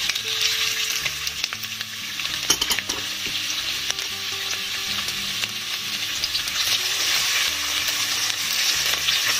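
Carrots fry in olive oil in a pot for leek and celery stew, a steady close sizzle and crackle with occasional stirring clinks throughout, no talking.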